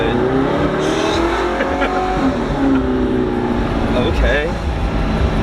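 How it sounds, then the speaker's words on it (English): An Audi R8 mid-mounted engine roars steadily from close by, heard from inside the car, its revs rising and falling, with people talking over the constant mechanical drone. "It's weird hearing the engine behind you, dude."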